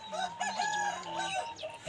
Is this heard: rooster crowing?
yes